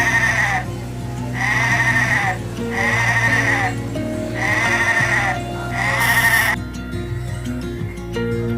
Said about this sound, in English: Sheep, young one